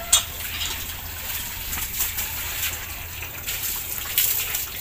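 Water gushing and splashing into buckets being filled for a motor sprayer test, a steady broadband rush with occasional clanks and sloshing bursts throughout.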